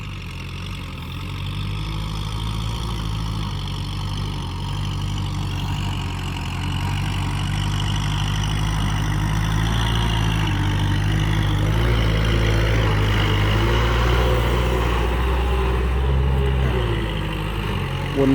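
A Kubota L5018 tractor engine drones steadily while puddling a wet rice paddy, a loud, close, low rumble that swells slightly and never lets up.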